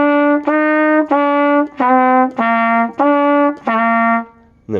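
A band instrument plays a quick practice exercise, a run of about seven short sustained tones in a steady rhythm with brief gaps between, close and clear with no talking.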